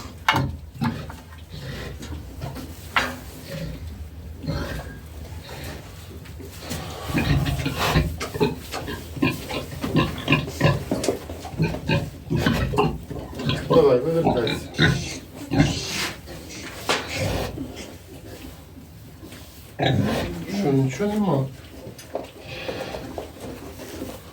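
A sow grunts and squeals in drawn-out, straining bursts, loud and close, with scuffling and background farm noise throughout.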